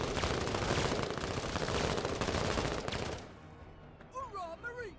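Dense, sustained automatic gunfire from the video game Menace roars loudly for about three seconds, then cuts off, leaving quieter game ambience and a few voices.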